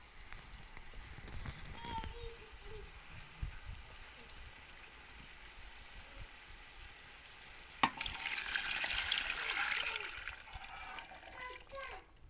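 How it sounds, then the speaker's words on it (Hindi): Around two litres of water are poured into a pot of vegetables cooking for vegetable rice in a village kitchen; a loud splashing, gushing pour rises after earlier stirring and sizzling, with a voice speaking in places. "अब हमने इसके अंदर डाल देना है 2 लीटर के करीब पानी।"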